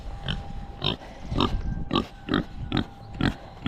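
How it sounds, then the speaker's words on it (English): A large pig on a winter homestead grunts in a steady series of short, close, rhythmic oinks, roughly two per second, with no talk. "Here's Princess, our little pig."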